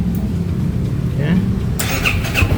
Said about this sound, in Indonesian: kita coba tes dulu bener bisa nyala apa enggak motornya ya setelah kita ganti busi